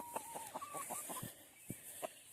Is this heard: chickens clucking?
yes